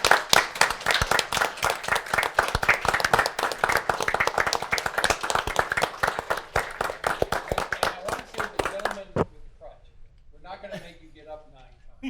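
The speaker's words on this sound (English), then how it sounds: "I just want to, stand up and applaud all the firefighters in here" At a city council meeting, people clap for firefighters in the room: lively, uneven applause for about nine seconds that stops suddenly, then a voice speaks briefly afterward.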